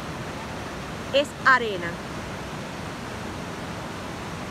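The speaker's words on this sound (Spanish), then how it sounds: "Espero que escuchen el sonido del agua." The crystal-clear Alpayacu river at Mera, Pastaza, runs over a sandy bed as a constant rushing hiss. A person speaks briefly over the steady flow.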